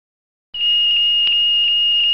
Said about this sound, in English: an oral alert sounds in the lavatory compartment